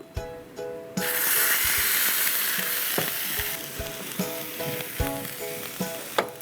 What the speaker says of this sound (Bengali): একদম সিল করে দিচ্ছি যেন ভিতরটা ড্রাই না হয়ে যায়